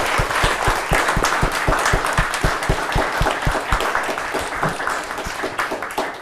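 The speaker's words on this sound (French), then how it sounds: "Alors j'aimerais un tonnerre d'applaudissements" An audience at a creative talk event gives sustained applause, a dense roar of clapping with a regular rhythmic beat of louder claps running through it, steady from start to finish.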